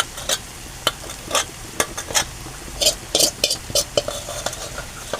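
A spoon stirs and breaks up leftover cooked rice in a hot pan in a home kitchen, giving soft scraping strokes and irregular clinks against the metal over a faint sizzle.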